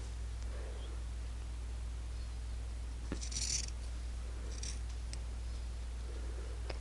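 A few short scissor snips trimming the fabric of a hand-sewn or machine-sewn face mask, quick dry cuts over a steady low hum in a quiet room.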